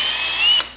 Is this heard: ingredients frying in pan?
no